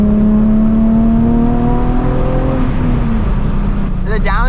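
A 2006 Nissan 350Z engine holds a high rev whose pitch slowly sags as it winds down, loud and close from the driver's seat, with a short burst of voice at the very end.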